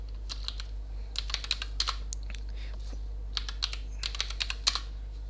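Computer keyboard typing, bursts of crisp close key clicks in irregular clusters over a steady low electrical hum, with pauses between runs and no speech.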